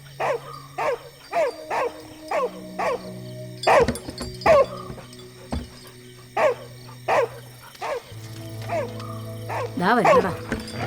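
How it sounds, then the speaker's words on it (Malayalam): A hungry dog barks repeatedly in short, evenly spaced yips and barks, with some whimpering mixed in. People talk in between and over the barking. "ആ പട്ടിക്ക് വിശന്നിട്ടായിരിക്കും അല്ലെങ്കിൽ കുറയ്ക്കുന്നേ."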